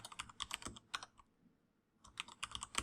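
Fingers tap out a username on a computer keyboard in quick, close bursts of clicky keystrokes, with a short pause in the middle before the typing resumes.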